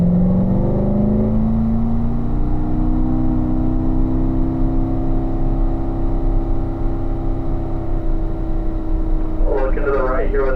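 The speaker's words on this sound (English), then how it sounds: "Let's get up to third gear. We'll accelerate so we can balance into turn one properly." A car on a race track accelerates up to third gear heading into turn one. The engine note climbs steadily in pitch, then holds a loud, sustained drone close to the microphone.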